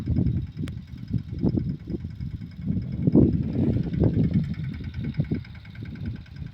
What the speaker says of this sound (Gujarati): સ્વરાજ ટ્રેક્ટર છે સાતસો સત્તર